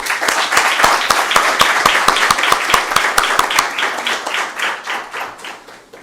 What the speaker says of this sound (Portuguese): que recebe as nossas palmas